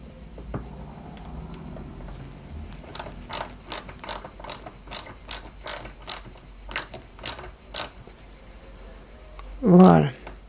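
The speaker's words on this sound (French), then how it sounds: "on le fixe à l'avant avec une vis AM" A small screw is driven into a part of a Lancia 037 scale model, a regular series of about a dozen close ratcheting clicks, with a short rustle at the end.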